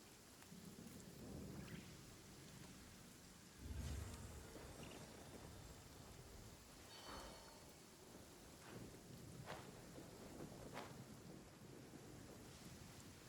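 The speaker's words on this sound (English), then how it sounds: "Yeesh, why is it raining?" Rain pours steadily in a video game during Lantern Rite, with a soft low thunder rumble near the middle and scattered crackles of distant thunder, all quiet and with no voices.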